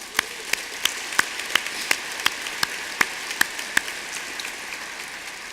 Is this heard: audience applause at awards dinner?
yes